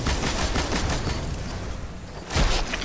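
Rapid gunfire rattles in the video game Destiny as dense bursts of shots crowd together, with a heavier burst near the end.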